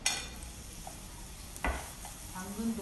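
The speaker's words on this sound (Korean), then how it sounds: "당근을 볶겠습니다." Carrots stir-frying in a pan for japchae, tossed with a utensil: a soft sizzle runs underneath, broken by a couple of sharper scrapes and knocks against the pan, close by and moderately quiet.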